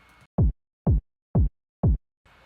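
A dry, unprocessed lo-fi house kick drum sample hits four times at an even pace, each a punchy, booming low thump with a quick decay and silence between. A softer, hissy layer sits briefly at the start and end.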